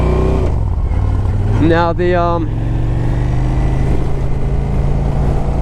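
A Honda Shadow Aero 750 motorcycle idles close by right after starting, a steady low engine rumble that continues throughout while someone talks over it.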